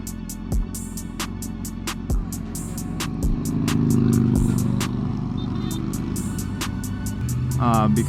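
Several motorcycle engines rumble and throb nearby in a steady, loud drone that swells midway, with sharp clattering knocks over it and a brief voice near the end.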